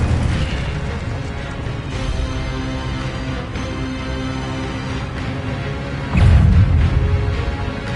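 Spells cast in the video game Hogwarts Legacy, with a low rumbling bed of mechanical noise and a sudden loud whooshing burst of fire near the end.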